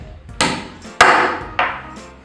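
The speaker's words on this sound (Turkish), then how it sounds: "Eğer elinizde çekiç yoksa diye ben böyle bir ahşap malzeme kullandım." Three sharp wooden knocks in an uneven rhythm as a wooden block drives a wheel onto the axle of a handmade wooden toy car, close and fairly loud with no voices.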